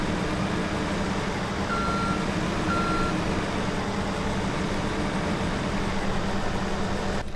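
A tractor engine in the Farming Simulator 17 video game runs with a steady low drone, while a pair of short, thin reversing beeps sounds over it early on, with no talk.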